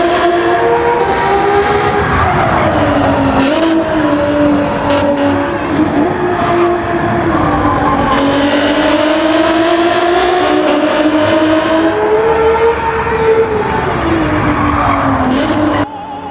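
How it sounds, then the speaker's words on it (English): A 2.5-litre V6 in an Alfa Romeo 155 V6 Ti runs loud and close, with a steady engine note that climbs and falls through revs over about sixteen seconds and drops off abruptly at the end. "Just listen to that engine."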